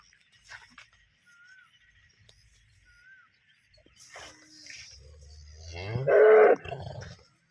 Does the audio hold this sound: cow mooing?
yes